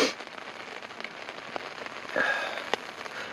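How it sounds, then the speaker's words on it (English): Rain patters steadily on a camping tent in Algonquin Park during spring ice-out, a close, crackling spray of drops with a few louder individual hits and no talk. "If it doesn't stop raining,"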